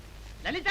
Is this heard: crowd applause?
no